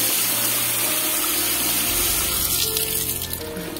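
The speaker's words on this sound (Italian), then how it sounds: "Questa è la fontana del paese." A village fountain pours a steady, dense rush of running water, close and loud, with no voices over it.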